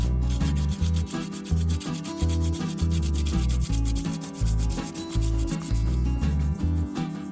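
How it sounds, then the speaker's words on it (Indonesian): Rhythmic back-and-forth hand sanding of a wood and resin keychain with 60-grit sandpaper, the coarse rasp repeating in even strokes close to the listener, with no talking. "Selanjutnya, ratakan dengan amplas nomor 60."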